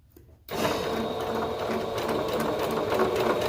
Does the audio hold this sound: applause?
no